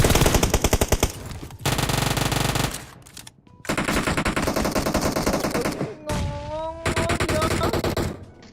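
Rapid automatic gunfire from the mobile battle-royale shooter PUBG Mobile, loud sustained bursts broken by short gaps, with a brief falling tone between volleys.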